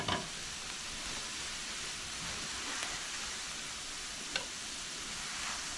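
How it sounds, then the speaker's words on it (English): Crumbled ground meat browning in a pan with a little grease, a constant even sizzle and crackle heard close up, with a couple of brief scraping stirs and no talking. "this meat should be done being browned and crumbled"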